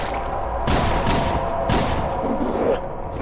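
Gunfire in the Halo 2 video game as the player shoots an enemy: a few loud, broadband shots over a steady low game rumble, with no talk.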